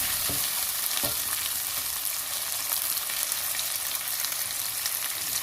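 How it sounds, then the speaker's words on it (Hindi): Thinly sliced garlic browning in hot oil in a pan, a dense continuous sizzle with a couple of stirring knocks early on, near and steady with no talking. "लहसुन के बारीक बारीक जो है वो स्लाइस कर लेंगे। तो जो है कलर ब्राउन कर देते हैं।"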